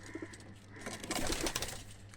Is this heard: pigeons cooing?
yes